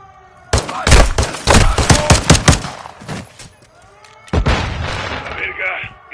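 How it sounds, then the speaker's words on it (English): Loud bursts of rapid gunfire in Call of Duty: Modern Warfare 2 crackle close by, a dense volley followed by a pause and another burst, with game voices speaking over the shooting. "A gunfire alerted them."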